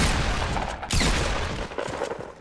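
Rapid video game gunfire rattles in quick bursts, with a sharper loud crack around the middle, dense and close throughout.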